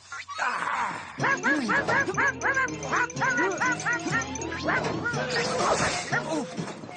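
Several dogs bark and yip in quick, overlapping bursts, loud and close, with whining tones running between the barks.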